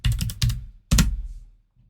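A computer keyboard is tapped in a few quick, close keystroke bursts while working in CAD drafting software, with a short pause between presses.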